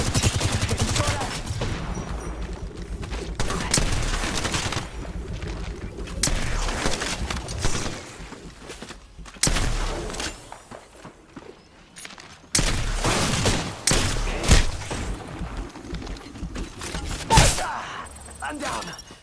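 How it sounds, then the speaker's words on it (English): Rapid automatic fire and scattered shots from a video game go on almost throughout, loud and dense, with brief quieter stretches between volleys. "Getting shot at."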